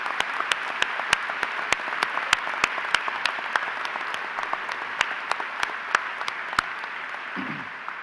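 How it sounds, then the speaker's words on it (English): An audience applauds steadily at a VMI joint commissioning ceremony honoring guests for their service to the nation, a dense, even wash of clapping with sharp individual claps standing out, sustained throughout before tapering at the end. "let's give them our applause and appreciation for their service to the nation"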